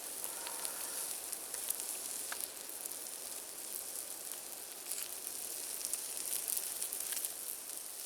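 Meat on skewers sizzling over an outdoor campfire, a steady close crackle and hiss with scattered pops and no voices.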